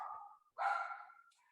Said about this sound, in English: as you can hear his dog in the background